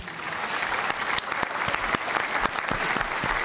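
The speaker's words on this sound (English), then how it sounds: "Round of applause" An audience at a live skateboarding talk show claps in steady, dense applause that fills the space throughout, with no words spoken.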